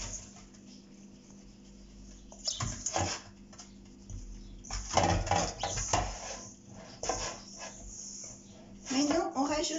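Pizza dough being mixed by hand in a bowl, with irregular clinks, knocks and scraping against the bowl in bursts. Someone talks over the mixing.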